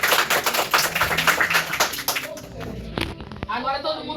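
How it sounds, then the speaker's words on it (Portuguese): Children in a church clap rapidly and unevenly in a close, busy burst that fades after a couple of seconds. Scattered taps and some background voices follow. "Agora uma salva de palmas para Jesus."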